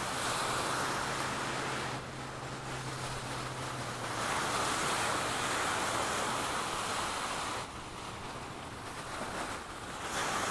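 Surf washing onto a lake beach, a steady broadband wash with gusts of wind buffeting the microphone throughout, swelling and easing slightly in places, no voices.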